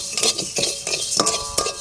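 Whole coriander seeds dry roasted in a pan, stirred with a utensil in rhythmic scraping and rattling strokes, close and fairly loud, with light crackle and no talking.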